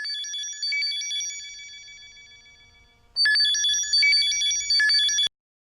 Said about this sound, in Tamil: இது உன்னோட பழைய போன் தானே? இப்ப யார் கூப்பிடுறாங்க?